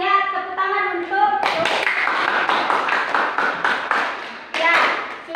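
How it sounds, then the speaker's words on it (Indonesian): Students clap in a classroom during a chemistry lesson, crisp close hand claps in a busy cluster after a brief spoken line, with a voice breaking in near the end. "Tepuk tangan untuk"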